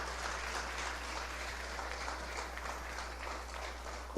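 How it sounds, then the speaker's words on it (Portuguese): A church congregation applauds during a Santa Ceia service, with continuous clapping for the whole stretch over a steady low hum. "Aplauda a ressurreição de Jesus Cristo."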